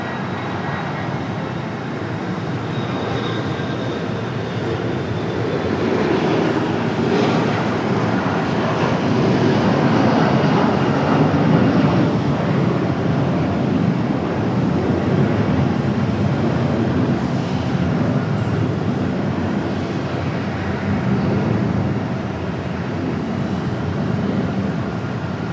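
A CRJ regional jet departs from Raleigh-Durham airport, its engine roar a broad, steady rumble that swells toward the middle and holds, loud and continuous, with no voices over it.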